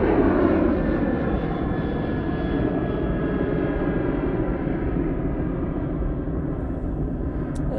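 A Ryanair airliner takes off from Manchester Airport bound for Dublin, a loud, steady jet engine roar with a broad rumble that holds throughout and eases slightly toward the end.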